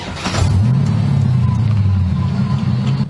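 A car engine rumbles up and runs steadily at a low idle, close and fairly loud, with a faint higher whine over the low drone.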